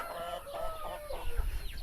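A feather-legged village hen clucks in a run of short, close calls against a steady low background hum, with no one talking.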